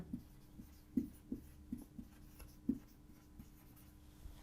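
Writing on a board while a table is filled in during a chemistry lesson: quiet, intermittent strokes and taps spaced irregularly over a faint background hum.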